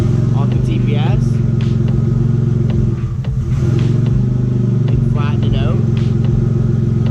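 A front engine idling with a steady, close rumble and a slight rise in revs while its fuel mixture is tuned at the throttle position sensor; someone talks over it throughout.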